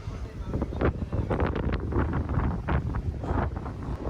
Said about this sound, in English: It's windy. I'm sure you can hear it.